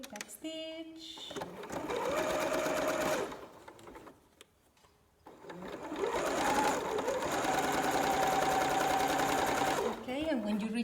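A sewing machine back stitches a strap on a bralette made from an upcycled t-shirt, giving loud steady whirring bursts close by that pause briefly in the middle, with a voice talking over parts of it.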